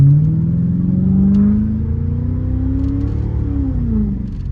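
A hot-rod Lincoln engine with its resonator removed revs loud and close, the throaty exhaust rising in pitch, holding, then dropping back in a sustained rumbling pull.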